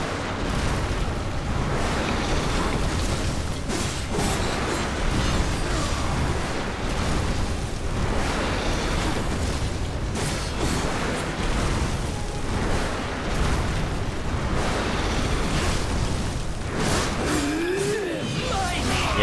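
Repeated booming explosions during a Darksiders boss fight, a dense, loud, continuous barrage of blasts and crashes with game noise throughout, and someone talking over it.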